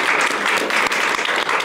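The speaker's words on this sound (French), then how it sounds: "alors Romain Maréchal, on peut vous applaudir" Studio audience applause on a French political talk show, dense and loud continuous clapping from the crowd in the room, with no speech over it.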